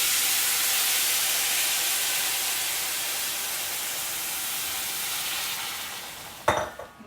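Veggie fried rice for a Guyanese dish sizzles with a loud, steady hiss in a hot pan, and a sharp crackling burst near the end follows as boiling water is poured in.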